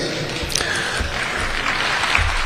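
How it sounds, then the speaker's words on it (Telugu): Audience at a Telugu diaspora gathering in Dallas applauding, a steady wash of many hands clapping at moderate distance that carries through the whole stretch. "దానికోసం చప్పట్లు కొట్టడానికి చెప్పలా."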